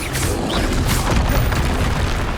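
A Bombarda explosion spell goes off in the Hogwarts Legacy PC game as a loud, low booming blast that rumbles across the whole moment amid game sound, with no voices.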